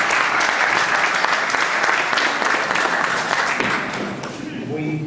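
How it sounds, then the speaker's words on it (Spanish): Sustained audience applause greets the speaker at an evening university lecture on money laundering and crimes against public administration, dense, close clapping that continues steadily and thins slightly near the end. "Nuevamente, fuerte los aplausos para él."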